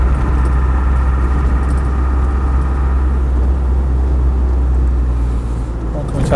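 Land Rover 110 station wagon with a 200TDi diesel engine chugging along at a steady pace, a loud, constant low rumble heard from inside the cab with road noise, and a voice talking over it.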